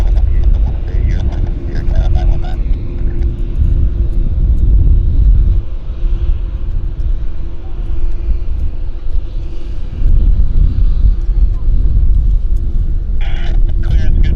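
Heavy jet aircraft roll and roar at Vancouver Airport with a loud, continuous engine rumble that swells and ebbs, while people talk over it throughout.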